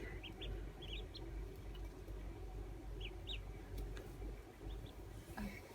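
Baby ducks peep in short, high chirps that come in small clusters, faint and somewhat distant over a low steady background hum.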